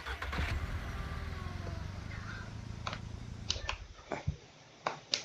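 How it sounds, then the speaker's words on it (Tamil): A vehicle engine in Ranch Simulator cranks and starts, a low rumbling hum at first, followed by a few sharp clicks and knocks as it settles. "ஓ, இப்போ தான் ஸ்டார்ட் ஆகுது வண்டி."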